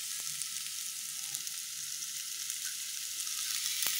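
Onions fry in a pan as the base for an egg curry, a steady, moderately loud hiss and crackle that holds evenly throughout with no talking.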